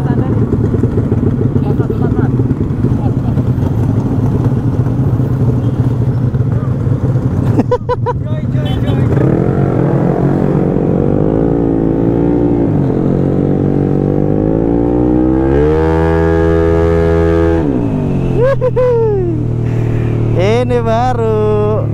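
A tuned Yamaha Aerox scooter engine runs and revs, its pitch climbing and falling through several throttle blips over steady idle, with voices talking over it nearby.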